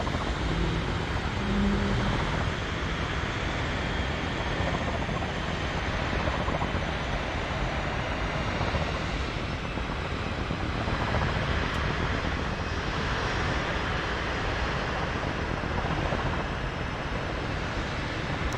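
An airplane lands in Central Park in Microsoft Flight Simulator, with a constant, moderately faint engine and wind drone that holds steady throughout.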